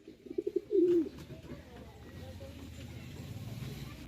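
Young pigeons in a loft, a few soft close coos and wing flutters up front, followed by a low steady background hum.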